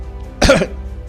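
A single short, sharp cough, close up, with quiet background hum before and after.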